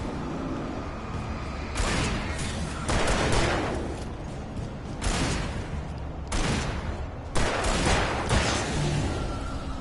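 Gunfire in the video game Alan Wake comes as loud, close bursts of repeated shots with booming impacts, separated by short gaps and rumbling underneath, with no voices over them.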